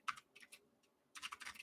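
Quiet typing on a computer keyboard, two short bursts of rapid key clicks separated by a pause, close and fairly faint with no voices.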